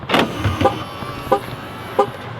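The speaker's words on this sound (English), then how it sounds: "Folds the mirrors, tucks the handles in." A Hummer locks with a short chirp and motor whirs as its mirrors fold and door handles retract, followed by two softer mechanical clunks, heard close outdoors.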